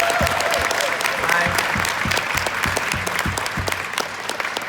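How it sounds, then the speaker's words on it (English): Audience at a Black cooperative conference keynote applauding steadily throughout, a dense even clapping from a sizable crowd that thins slightly toward the end. "you guys can clap for them like they just won the final"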